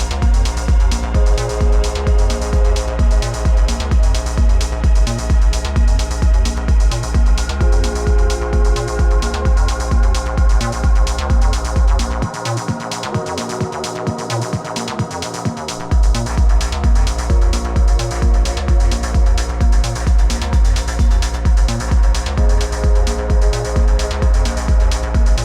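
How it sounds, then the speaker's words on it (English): Deep melodic techno plays loud and steady, with a pulsing four-on-the-floor kick under hypnotic ambient layers; the kick drops out briefly in the middle before returning. "kind of sounds like this deep melodic techno."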